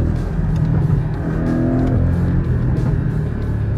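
A Porsche Cayman 718 GTS pulls hard in second gear on a country road, its exhaust holding a loud, steady growl from inside the cabin.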